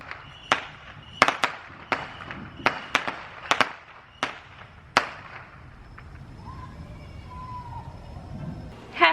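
Fireworks on New Year's Eve crack and pop in a rapid irregular string of sharp bangs, then thin out to a distant rumble with a final bang at the end.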